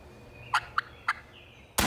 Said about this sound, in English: That's the way you kill a strut zone gobbler.